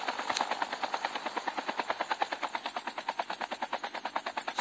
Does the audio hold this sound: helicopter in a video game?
yes